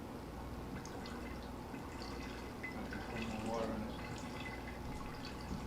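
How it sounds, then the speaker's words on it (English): Water dripping and trickling to simulate rain, a steady wet patter with small splashes throughout, with people talking over it. "Why don't we have more rain? Let's make more rain."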